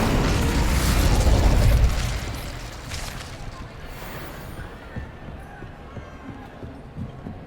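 A burst of fire from the Incendio spell in Hogwarts Legacy, a loud whooshing blast that swells for about two seconds, then fades into a low crackling rumble.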